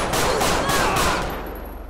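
Rapid bursts of gunfire in a Grand Theft Auto V police patrol, a dense volley of overlapping shots that stays loud for over a second and then tails off.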